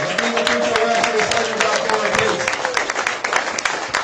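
Dense, steady audience applause at an Andrew Yang political rally in Fort Dodge, Iowa, a loud continuous crowd clapping with scattered cheers throughout.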